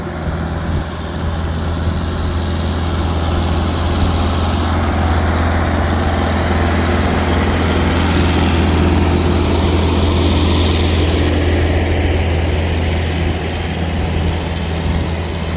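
A heavy tractor ploughing a paddy field drones loudly and steadily nearby, its low rumble constant throughout with no voices.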